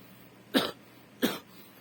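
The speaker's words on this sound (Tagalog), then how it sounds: "Hanggang ngayon may ubo pa rin ako." Two short, sharp coughs from a sick person with a lingering cough, close by, spaced about half a second apart against a quiet background.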